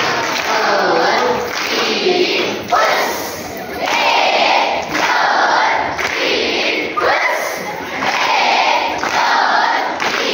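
A large school audience at a Marathi children's literature gathering performs a rhythmic 'firecracker clap' cheer, loud repeated bursts of clapping and shouting in regular waves of roughly one to two seconds.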